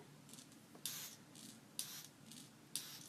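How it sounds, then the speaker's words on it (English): Three short hissing spray bursts at roughly one-second intervals, close by, with softer hisses between them against a quiet background, from a spray pump applying keratin hair fibres along a hairline. "I'm going to use a spray pump for his head, and you simply just spray it along with the hairline"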